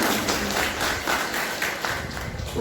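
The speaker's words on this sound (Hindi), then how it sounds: "कभी बड़ी ताली" An audience claps at a spiritual gathering in Saharanpur, a soft, continuous wash of hands heard from a distance at low level.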